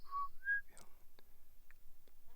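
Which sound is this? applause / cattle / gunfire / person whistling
person whistling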